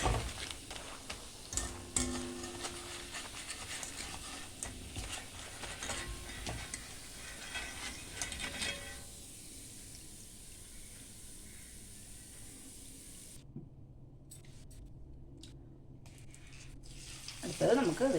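Pakoda frying in hot oil, a soft crackling sizzle with scattered stirring clatter that thins to a faint hiss in the second half, quiet and close, no talk.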